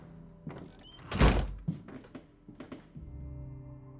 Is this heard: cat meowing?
no